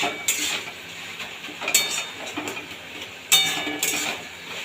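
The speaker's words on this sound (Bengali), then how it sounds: "এইবারে নেড়ে চেড়ে মোচাটাকে ওপর থেকে নিচে সব কিছুর সাথে মিশিয়ে দেবো" Spoon scraping and clinking in a pan while banana flower curry is stirred and mixed, a steady close scrape with a few louder metallic knocks.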